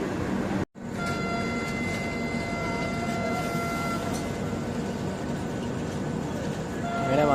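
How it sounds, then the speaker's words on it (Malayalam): A Vande Bharat express bound for Mumbai CSMT pulls into a station at Panvel, a sustained rumble of rolling wheels and carriages with faint tonal whines, steady and fairly close, rising slightly at the end. "നമ്മുടെ വന്ദേ ഭാരത് വന്നു കേട്ടോ ഇതാണ് പടുകാവ് മുംബൈ സി എസ് എം ടിയിലേക്ക് പോകുന്ന വന്ദേ ഭാരത്"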